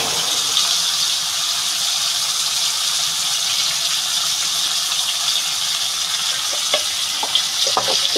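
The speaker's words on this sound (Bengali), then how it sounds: "বন্ধুরা আলুটা আমার ভাজা হয়ে গেছে প্রায়" Potatoes fry in a pan for a Bengali fish curry with bitter gourd. A steady, close bright sizzle with no talk, and a few faint clinks or stirs near the end.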